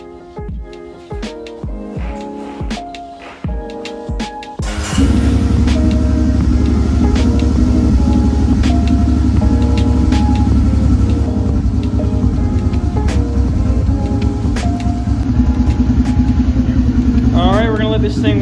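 A Honda TRX250EX ATV engine idles loud and close as it warms up, holding a steady drone after about five seconds. Before that come a few irregular knocks and sounds, and there is faint talk in the background.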